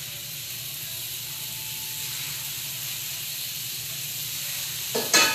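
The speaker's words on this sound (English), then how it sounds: "It's just to brown them enough to then add another layer of flavoring to the meat." Meat browning in a pan with onions, garlic and a little curry, giving a steady, close sizzle and hiss that runs on evenly, then a brief clatter near the end.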